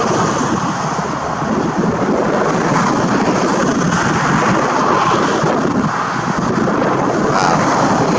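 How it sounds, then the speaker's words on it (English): Strong wind buffeting an unshielded microphone outdoors in open, exposed ground, a steady loud low roar with gusty rumble lasting throughout, no voices. "I'm getting a little more wind here because I don't have anything blocking me out from this wind"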